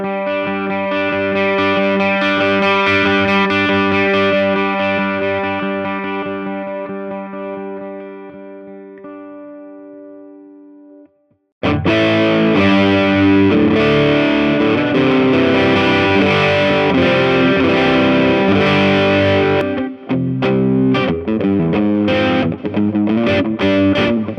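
Electric guitar played through a Hotone Ampero 2 running a profiled Laney amp: a long sustained, gently decaying chord, then a loud, dense distorted riff with driving chugging rhythm that continues to the end, with no talking.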